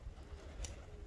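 A pigeon coos softly once or twice over low background rumble, fairly faint and brief.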